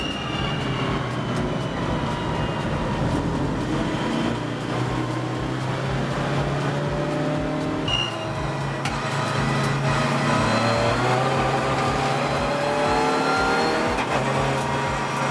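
Race cars, including an Audi and a Cupra, roar past at Donington Park in a Roadsports final, engines droning loud and continuous with rising and falling pitch.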